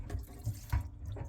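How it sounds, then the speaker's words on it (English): Tap water switched briefly on and off during a service call to check a crack, a few faint short splashes and gurgles of running water close by, quiet and intermittent. "Just give it one little on and off water, Vinny."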